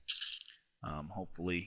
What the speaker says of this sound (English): It sounds like you got a lot of cash when you click on it.